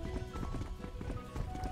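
Horse hooves clip-clop in a steady rhythm in a cute horse-riding video game, the close, repeated steps running throughout with soft background music.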